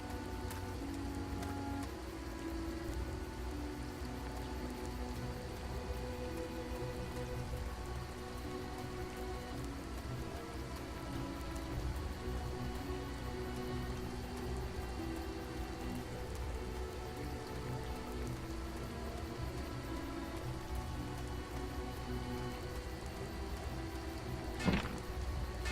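Steady rain patters in the video game Edge of Eternity, a dense, even hiss of drops on surfaces continuing throughout, with a single brief thunk near the end and no talk.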